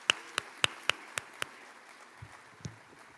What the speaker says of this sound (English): Can I get a round of applause for all of you?